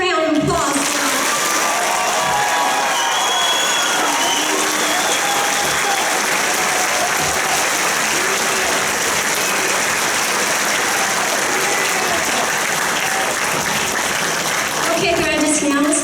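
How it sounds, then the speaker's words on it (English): An audience at a workforce and rehabilitation center graduation ceremony gives a loud, sustained round of applause with some cheering. The dense clapping lasts about sixteen seconds and fades out at the very end. "Let's have another round of applause."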